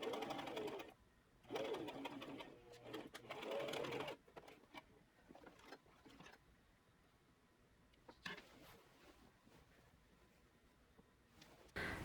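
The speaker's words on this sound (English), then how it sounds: "I have to sew a diagonal line on the outside" A sewing machine stitches a diagonal seam on a cotton pencil dress, running in several close, steady bursts separated by short pauses and quieter handling sounds, with no talking.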